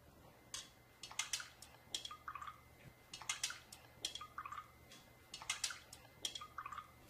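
Spoons stirring cups of different bottled waters, Smart Water, Dasani, tap water, Kangen water and a soda, give off repeated light clinking and swishing strokes in short bursts, close and fairly quiet.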